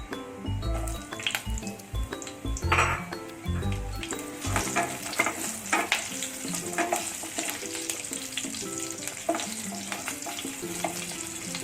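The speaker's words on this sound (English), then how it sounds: "It's time to add the green chili and curry leaves." Green chili and curry leaves hit hot spiced oil for a Mughlai chicken korma, a steady crackling sizzle with stirring and some clattering and knocks early on, continuous and close throughout.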